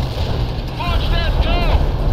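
A TOW missile launching in the World in Conflict war game, with a loud whooshing, warbling rush rising over constant battle rumble and mechanical noise, close and sustained.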